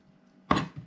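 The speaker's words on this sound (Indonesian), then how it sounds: "Potonglah menjadi bagian-bagian yang kecil di atas talenan seperti ini" A single sharp knife chop cuts through hard-stemmed vegetable scraps on a cutting board, a close, crisp thud with a faint follow-up tap, and no talking.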